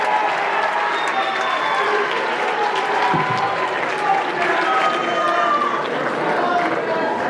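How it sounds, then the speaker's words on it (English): Audience applause and cheering for the boys at a Mr. Spiffy High stage show, a dense, sustained crowd sound with scattered whistles and voices mixed in throughout. "All right, another round of applause for the boys this evening."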